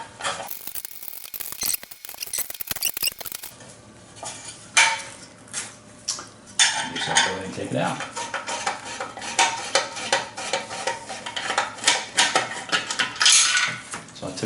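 Small metal clicks, taps and scraping of screws being loosened on the headlight adjusting screws of a 1949 Studebaker 2R5 truck, close and irregular with bursts of clatter, no talking.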